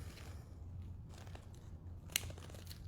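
Scissors trimming a thin nail form during nail shaping, quiet and close, with a soft rustle of handling and one brief crisp snip near the end, no voices.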